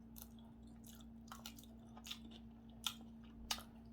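Someone chews fried fish eaten with rice, with soft crunching bites spread through the quiet, the sharpest crunches landing near the end.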